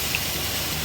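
Water being poured into a pan of roasted wheat rava, a steady hissing gush that runs without a break for under a second.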